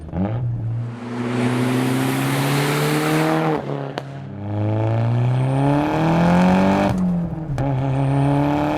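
A Nissan Pulsar GTI-R with all-wheel drive accelerates hard, its engine climbing through rising revs in two or three strong pulls with brief dips at the gear changes. Loud and close throughout, with no talk.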